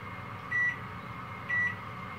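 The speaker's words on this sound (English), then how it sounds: "we'll put the timer on for, let's say, 30 minutes" A kitchen oven timer gives two short, bright electronic beeps about a second apart over a faint, steady background hum.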